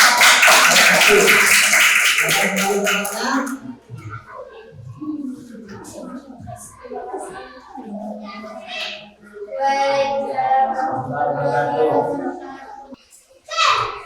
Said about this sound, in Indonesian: Silakan tepuk tangan untuk kelompok 1